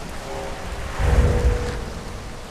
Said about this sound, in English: I am enjoying this lovely rain.